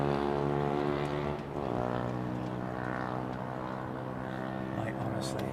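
Airliner at Heathrow roaring loud and steady as it takes off, a continuous rumbling engine drone with a slowly shifting whine, close and dominant, with faint voices beneath.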